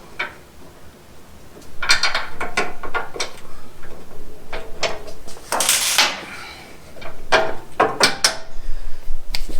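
A ratchet wrench loosens bolts on a car's rear bumper, giving bursts of sharp mechanical clicking and clattering that come and go at close range. No one speaks.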